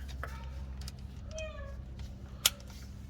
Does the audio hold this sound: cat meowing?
yes